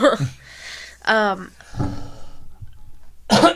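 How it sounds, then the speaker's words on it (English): A few harsh coughs come in separate bursts with quiet gaps between them, close and fairly loud, with a bit of voiced throat sound mixed in. "Why you gotta cough like that?"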